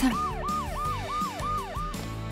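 An ambulance siren wails loudly and close in a rapid, repeating rise-and-fall pattern, about five cycles in a row, with no voices over it.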